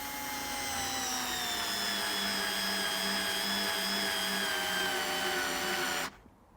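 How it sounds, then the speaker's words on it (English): A Ryobi RSDP4 screwdriver whines steadily as it drives a big screw into timber, a loud continuous motor tone sagging slightly in pitch under load, then cutting off abruptly near the end. "let's take a big screw and a convenient piece of timber"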